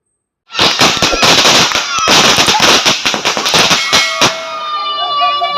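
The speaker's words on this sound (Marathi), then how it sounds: "घरच्याने फटाके व गुलाल लावून विजयाचा जल्लोष केला" Firecrackers burst in a rapid, loud string at a family's victory celebration after a wrestling win, sharp cracks overlapping densely for about four seconds before fading into ringing tones and faint background voices.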